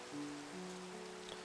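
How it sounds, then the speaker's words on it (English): Rain in a farming video game, a faint steady patter and hiss of falling drops beneath soft, sustained background music tones. "Oh, praise the rain."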